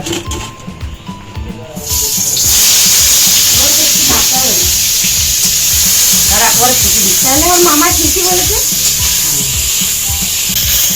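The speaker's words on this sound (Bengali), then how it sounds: "কড়াইয়ে তেলটা দিয়ে নিলাম এবার বেগুনগুলো দিয়ে দেব" Eggplant pieces drop into hot oil in a wok and erupt into a loud, steady sizzle that holds close and continuous, with stirring scrapes and a person talking over the frying.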